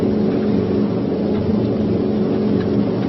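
Engines of a Boeing B-17 bomber drone at high RPM on final landing approach, a steady, loud, muffled roar with slight pulsing and no breaks, heard on an old, band-limited recording.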